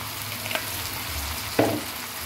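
Ground peanut paste being stirred into green onion-style vegetables frying in a pan, a steady soft sizzle with a couple of brief scraping stirs, no talk.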